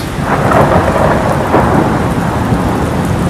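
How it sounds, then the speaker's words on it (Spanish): A thunderstorm with continuous heavy rain and rolling thunder, loud and steady throughout with swells of rumbling thunder, no voices. "Tormentas, truenos, relámpagos, lluvia, huracanes."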